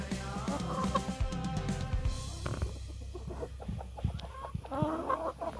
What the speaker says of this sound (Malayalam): അപ്പം കുറച്ച് കോഴികളൊക്കെ ഇവിടെ ഉണ്ട്. എല്ലാം നാടൻ കോഴികളാണ്.